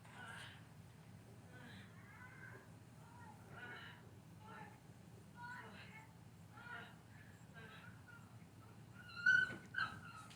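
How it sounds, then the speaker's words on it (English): A dog whimpers and yips in short, thin, high-pitched cries, sounding faint and distant as if played back from a recording, while people talk over it. "I think it's a dog"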